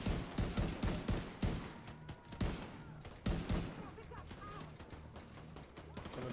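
Rapid bursts of gunfire from the video game The Division 2 crackle in quick repeated volleys, loud at first and then thinning out, with someone talking over the shooting.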